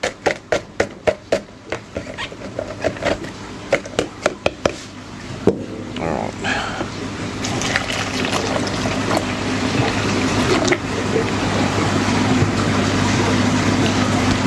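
Water pouring into a container to dissolve aquarium salt crystals for a Triton-method reef mix, a steady close splashing fill that builds after a few sharp clicks and knocks.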